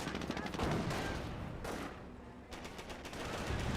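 Rapid bursts of small-arms and machine-gun fire from a World War II battle in the Company of Heroes strategy game, cracking in dense rattling volleys with brief pauses, loud and close, with a faint voice underneath.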